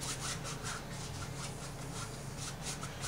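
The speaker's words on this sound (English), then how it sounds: "you'll hear me scrubbing on that canvas. Kind of a dry brushing," Dry paintbrush scrubbing lightly across canvas, a steady soft rasping with rhythmic strokes, close and continuous throughout without any voices.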